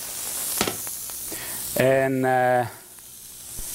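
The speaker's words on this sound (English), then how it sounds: "I'm going to add my onions to it. See, nice and frying." Onions dropped into a hot sauté pan give a brief sizzling burst, close and loud, amid kitchen clatter, with a person speaking briefly.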